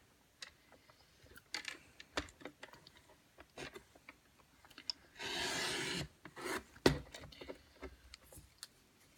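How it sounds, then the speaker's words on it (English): A paper trimmer slices through stamped cardstock, a soft rasping glide of the blade lasting about a second, set among quiet taps, clicks and paper handling close by in a calm craft room. "I'm going to use my trimmer to just trim off that happy birthday."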